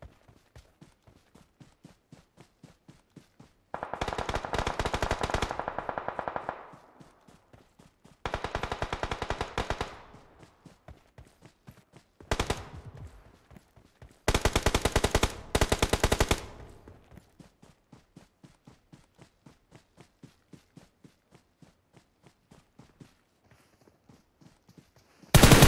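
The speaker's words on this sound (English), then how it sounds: "Yeah, I definitely heard those shots." Video game gunfire comes in several bursts of rapid automatic shots, loud and close, separated by quieter stretches with faint regular ticking, and ends in a final sharp blast.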